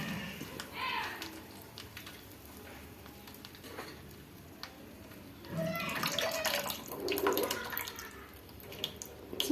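Tamarind juice is poured into a pan while pulihora is being made for Diwali, a steady watery trickle that swells partway through, heard up close with faint household voices in the background.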